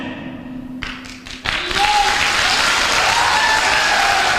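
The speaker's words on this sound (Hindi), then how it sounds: "आप किसी के लिए ताली मत बजाओ" Audience applause at a live motivational talk: after a few soft thumps, steady clapping bursts in around the 1.5 second mark and keeps going loud and even to the end, with crowd noise mixed in.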